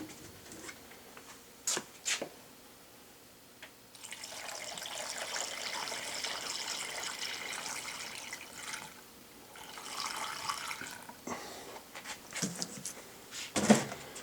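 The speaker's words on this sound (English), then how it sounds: "We're going to go ahead and fill it with coolant now." Coolant pours into the reservoir of a Volvo S60 as a faint, soft liquid stream in two spells, with light clicks and handling knocks between them.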